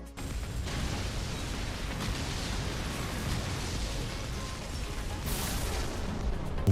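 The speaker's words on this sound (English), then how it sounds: "Some kind of explosion." An explosion sound effect gives a continuous, dense, roaring rumble that stays at an even loudness throughout and swells slightly near the end, with no voices.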